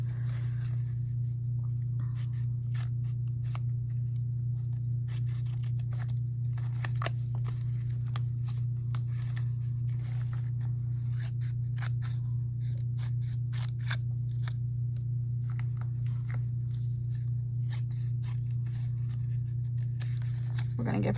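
Scissors snipping out a paper collage figure, a steady run of close, crisp cuts over a constant low electrical hum.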